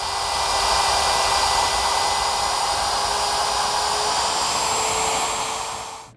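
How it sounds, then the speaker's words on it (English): A router fitted with a 3/4 inch straight bit cuts a groove in wood along a straight-edge guide, a steady loud whine holding even for about six seconds before stopping at the end, with no talking. "I'll cut right along this line and stop at this point right here."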